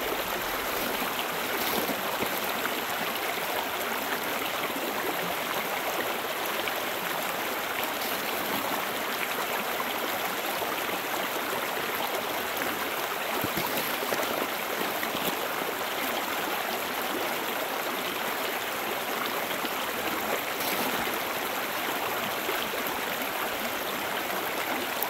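Stream water rushes steadily through a gold sluice box at a Colorado creek, a loud, even, continuous flow close by with no break.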